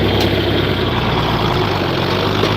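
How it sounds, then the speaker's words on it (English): A 1967 John Deere 4020 tractor engine idles on a farm, a loud, steady low diesel rumble close by with no talk. "40-20 John Deere he bought brand new."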